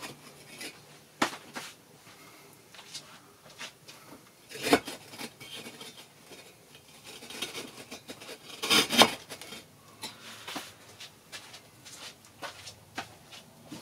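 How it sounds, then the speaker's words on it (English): A firebrick slides down into a DIY glass-fusing kiln, giving faint scraping rubs and a few soft knocks, sporadic and close with no talk. "This brick is going to slide down from the top. And snug into place."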